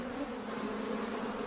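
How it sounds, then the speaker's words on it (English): African honeybees hum steadily around a hive built inside a tree in the African bush, a constant, even drone at moderate distance with no voices. "African honeybees have built a hive inside a nearby tree"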